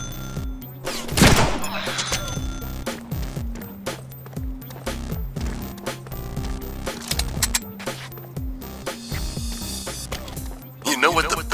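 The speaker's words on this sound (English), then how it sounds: "Think on that while I shoot you." Gunfire from the Deadpool video game rattles in rapid bursts, loud and close, with repeated shots and impacts running throughout.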